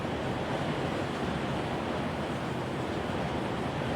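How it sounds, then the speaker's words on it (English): Heavy rain pours down outside just beyond a window, a steady dense hiss that never lets up, with no voices. "It's pouring down raining. My window is right there."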